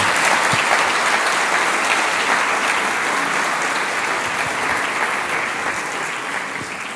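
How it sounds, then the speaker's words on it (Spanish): A church congregation breaks into sustained, dense applause, loud and steady for the whole stretch with no talking, tapering only slightly toward the end. "Ese merece un aplauso al Señor."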